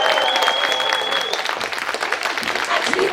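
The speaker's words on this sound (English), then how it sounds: "Should we get a big round of applause for Chloe?" Crowd applause for Chloe at an outdoor arts festival in Corby, with a broad, continuous wash of clapping and a faint sustained tone in the background, and a few voices mixed into the noise.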